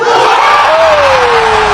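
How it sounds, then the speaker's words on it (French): A ceremony audience at the Ballon d'Or roars with loud sustained cheering and shouting, a dense crowd wall with one voice sliding down in a long whoop. "Tout le monde applaudit et Ousmane monte sur la scène."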